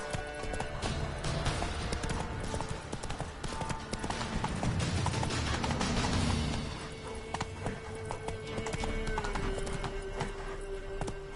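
Roach, the horse in The Witcher 3, clip-clops along at an easy walking pace in a steady, close hoofbeat rhythm, with a faint whinny partway through and no talking.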